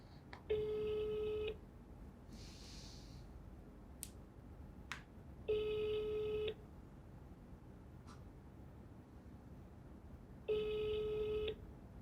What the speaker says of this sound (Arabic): هجرب مكالمة تاني كده ولا تبعتوا لها واتساب؟